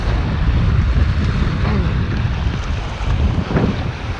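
Strong northeast monsoon wind buffets the microphone on a fishing boat near Talim Island, a loud constant roaring rush with low gusting thumps and water sounds beneath.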